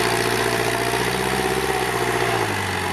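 Kubota L4708 tractor, customised and used for pushing soil, its diesel engine running steadily up close with a loud, even throb and a slight drop in pitch near the end.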